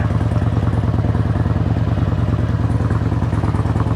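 A fuel-injected Harley-Davidson Road King idles steadily close by, its V-twin firing in an even, loping rhythm with mechanical clatter throughout and no voices.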